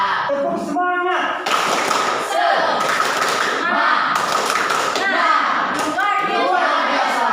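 A classroom of children does a rhythmic spirit clap, with sharp bursts of clapping in patterns and voices chanting along throughout, loud and close.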